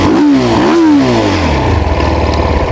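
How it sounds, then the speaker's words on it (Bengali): A CF Moto 300SR, a 300cc sport motorcycle, revs loudly up close. The engine pitch climbs, dips and climbs again, then settles into a lower, rumbling idle, with no speech. "এই হচ্ছে বাইকের ইঞ্জিন সাউন্ড।"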